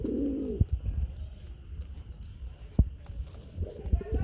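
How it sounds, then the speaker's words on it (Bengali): A male Gola pigeon coos close by in two bursts, one at the start and one near the end, with a few soft knocks and rustles in between. "একটু নরের ডাকটা শুনি কারণ অনেকে ডাক শুনতে চাই"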